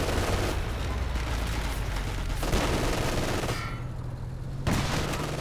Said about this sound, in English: Triple snipers here opening up on the Puma and doing some good damage to it